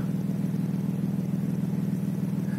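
A 1999 BMW 323Ci E46 with a sport rear muffler idles steadily, a smooth, even low burble with a faint pulsing rhythm, close and continuous with no revving.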